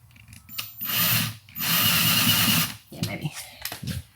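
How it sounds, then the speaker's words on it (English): A power drill with a step drill bit whines in two long bursts up close, then shorter revving pulses, with people talking between and around the drilling. "Step 2, step up drill."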